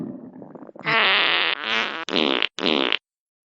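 A loud comic fart sound effect in a Chhattisgarhi funny song: a low murmur, then a long raspy blast followed by three shorter sputtering bursts, all close and upfront with no talk over them.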